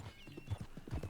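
Horse hooves clip-clop in Red Dead Redemption 2 in a steady, close rhythm of several footfalls, with a brief whinny-like tone behind them and no talk.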